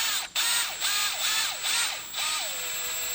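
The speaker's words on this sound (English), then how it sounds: "carefully start drilling in the center" Drill bit cutting into a broken bolt seated in a deep recessed hole, a whining tool with repeated rising and falling pitch in short bursts, settling into a steadier tone near the end, close and fairly loud.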